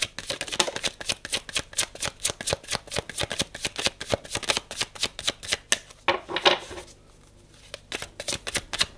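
Tarot cards shuffled in quick, regular riffling bursts, close and fairly loud, with a brief pause before a few final card snaps at the end.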